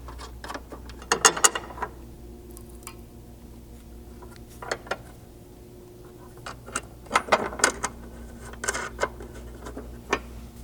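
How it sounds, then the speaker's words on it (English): Button-head bolts and nylock nuts being fitted on a Bronco pinch weld cover: scattered metallic clicks and short ratcheting bursts over a low steady hum, close by and fairly quiet. "begin installing the 3 5/16 button heads and nylock nuts back here"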